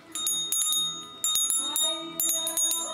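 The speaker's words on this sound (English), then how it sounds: "Some days I really like the silver bell." A small silver bell, a wedding anniversary keepsake, rings in repeated bright shaken bursts, about three clusters of clear high chimes with short gaps, close and loud with no talking.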